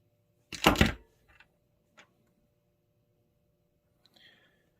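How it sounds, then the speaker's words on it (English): Black and orange wires being cut for a virtual pinball cabinet's power switch wiring: one sharp, crunchy snip up close, then a few faint clicks and small handling taps. "So I'm just going to cut into this."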